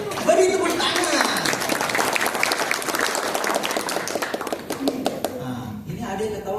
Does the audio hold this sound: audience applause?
yes